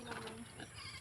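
Newly acquired goats bleating close by, a short burst of overlapping animal calls.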